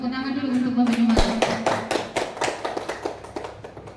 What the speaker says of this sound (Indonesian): Tepuk tangan dulu untuk Bapak Jumardi.